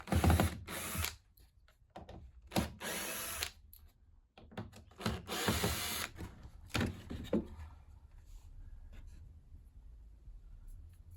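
Ratchet turning to remove screws from the casing of a Samsung heat pump tumble dryer: bursts of rapid clicking pawl ratchet strokes, close and fairly quiet, separated by short pauses.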